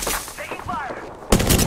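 Gunfire in a video game match breaks out as a sudden loud burst of rapid shots at the end, after a short stretch where a voice speaks over the game sounds.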